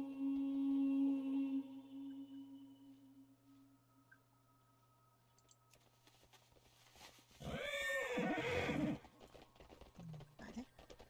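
A horse in World of Warcraft: Shadowlands whinnies loudly with a shrill, wavering neigh, after a low steady hum and quiet background sounds.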